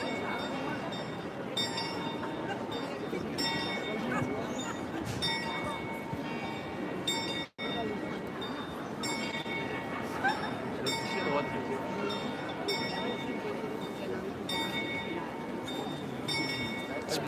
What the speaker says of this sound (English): The bells are ringing on the side of the clock there.